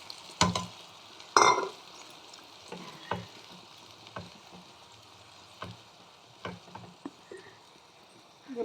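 Lentil dumplings (bori) sizzling softly in a curry, a faint low bubbling bed broken by intermittent knocks and scrapes of stirring spaced a second or so apart.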